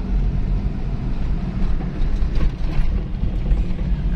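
An MRT train rumbles past overhead on Aurora Boulevard, a loud, steady low roar with a faint clatter, heard from the street below and with no talk over it.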